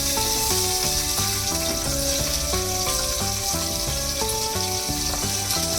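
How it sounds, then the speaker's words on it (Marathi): Chopped vegetables for pav bhaji, including cauliflower, sizzle steadily in a pan under a loud melodic music track with stepping tones, the hiss of frying staying constant and close throughout. "हे कट केलेल्या सगळ्या भाज्या आपण याच्यामध्ये शिजायला लावणार आहे त्याच्यामध्ये टाकणार आहे फ्लावर"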